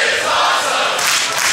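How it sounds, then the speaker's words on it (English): A sold-out crowd at a wrestling street fight inside Mr. Small's Theater roars and cheers loudly for the whole brief moment. "This sold-out crowd here tonight inside Mr. Small's Theater."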